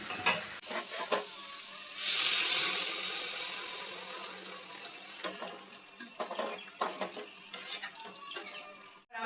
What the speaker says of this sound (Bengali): এরপর এতে আমরা দিয়ে দেবো জল